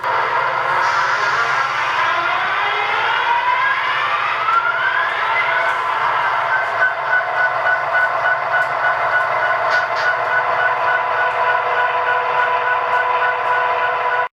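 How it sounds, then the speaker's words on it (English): An HO scale model Norfolk Southern locomotive starting up, humming steadily with a rising whine and tonal whistle-like pitches, continuous and fairly loud throughout, with mechanical rumble underneath. "Here's our engine starting up."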